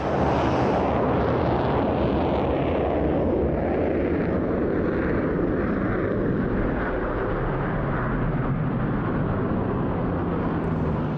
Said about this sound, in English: Both taking off with reheat, and they have visual contact now to the target.